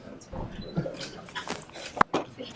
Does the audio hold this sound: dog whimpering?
yes